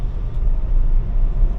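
A Tesla under Full Self-Driving accelerates, giving a steady, loud low road rumble with engine-less drivetrain and tyre noise throughout, close and continuous with no talking.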